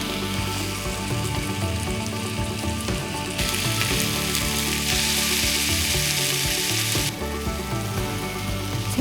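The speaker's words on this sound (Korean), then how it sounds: "기름이 남은 팬에 바로 고기말이를 넣어서 이리저리 돌려가며 노릇하게 굽는다." Beef rolls sizzle steadily in an oiled pan as they are turned, a close, continuous frying hiss with small crackles and occasional scraping, swelling louder partway through.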